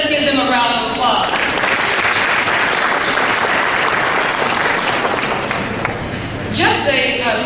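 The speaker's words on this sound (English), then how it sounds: "Let's give them a round of applause." An audience at a forum applauds with a full round of steady, dense clapping. It starts as a voice trails off, carries on for several seconds and fades as speech returns at the close.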